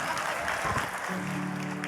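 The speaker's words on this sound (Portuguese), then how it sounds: "Por que estão aplaudindo?" Church audience applauding during a sermon in Portuguese, a steady broadband patter of many hands that fills the clip, with a sustained tone entering midway.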